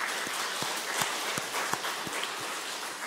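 A church congregation in Yangpyeong claps during a Sunday service. The soft, fairly distant patter of applause carries evenly spaced louder claps running through it.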